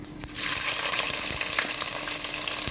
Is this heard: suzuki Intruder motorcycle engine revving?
no